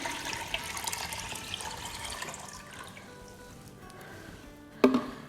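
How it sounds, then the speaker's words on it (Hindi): Twelve cups of water poured into a large Instant Pot produce a steady splashing, gurgling flow that fades, followed by a sharp clank near the end. "इसमें हम सबसे पहले डालेंगे 12 कप पानी"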